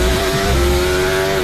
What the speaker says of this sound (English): the sound you can hear is George Russell's car